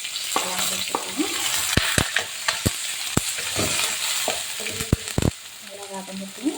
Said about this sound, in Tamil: இப்போ இந்த வெங்காயம், வரமிளகாய், இஞ்சி எல்லாம் போட்டுக்கலாம்.